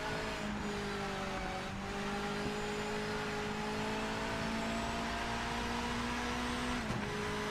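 Hypercar engine from the Project Motor Racing video game drones continuously while power sliding, a steady rising and falling engine tone with no speech, close and even in level throughout.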